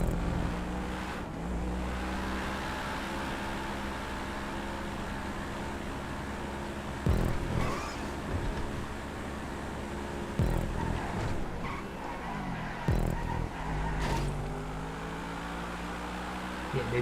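A car engine drones continuously at full throttle through a lap of a GTA 5 race track, with gear-shift dips and a few sharp bumps breaking the steady hum, no one talking.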